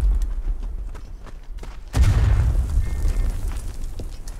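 A heavy mortar shell detonates partway through amid WW1 trench warfare in the game Verdun, a deep booming blast that rumbles on after a run of faint distant thuds.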